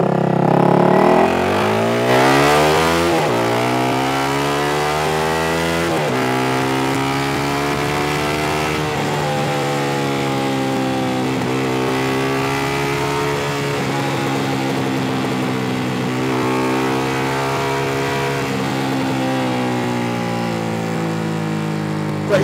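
Honda CBR250R motorcycle ridden at night through city traffic: a close, loud engine drone revving up through several gear changes, the pitch climbing and dropping repeatedly, then holding a steady cruising tone, with no talking.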